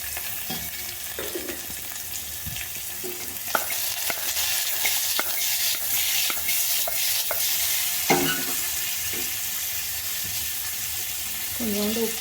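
Onions and vegetables sauté in a pan for a vegetarian liver gravy, a steady sizzle with repeated scraping and stirring strokes and a few knocks of the spoon against the pan.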